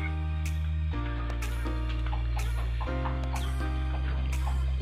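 A six-month-old Peruvian chicken clucking in a multi-tier cage, repeated throaty clucks over a loud steady low mechanical hum, close and without talk.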